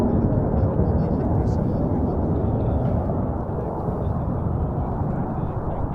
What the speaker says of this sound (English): We'll see a 7-ship formation pulling up into a loop.